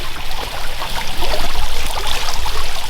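Water current spilling out of a pond tunnel among arrowhead plants and lilies, a steady close rushing and trickling flow with no pauses, continuous and fairly loud.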